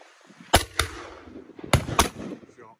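Shotgun shots at a game shooting lesson on Exmoor, four sharp cracks in two close pairs, loud and near, with an instructor's voice talking between them.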